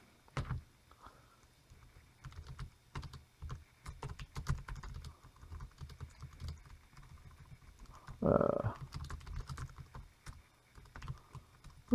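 Typing on a Logitech K811 Bluetooth keyboard, with light, quick key clicks in uneven bursts and short pauses, close and fairly quiet, with no talking.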